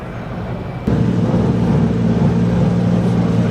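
Car with a naturally aspirated SR20 engine, a low steady engine rumble that grows louder and fuller just under a second in and then holds near and steady.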